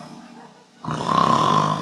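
A performer imitates snoring with the voice: a quiet breath, then one loud, rough, drawn-out snore that swells and holds.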